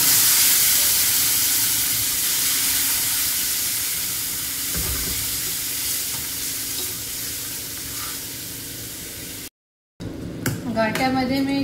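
Gathe dumplings dropped into a hot pan sizzle and hiss steadily for about nine seconds, with faint stirring, followed by a short break and someone speaking.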